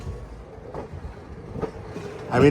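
Vijayawada–Guntur–Macherla passenger train rolling out of Vijayawada station past the loco shed, a steady low rumble of wheels on rail with a few soft knocks, swelling louder at the very end.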